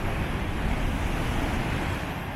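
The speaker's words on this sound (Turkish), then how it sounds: "Dalgalar nasıl vuruyor" Ocean surf pounds the shore at Padang, Sumatra, a continuous loud roar of crashing water mixed with wind buffeting the microphone, no voices.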